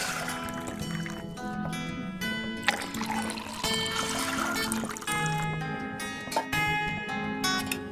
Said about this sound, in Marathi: मेजरमेंट कपनी 2 कप आपण मोजून पाणी घ्यायचं.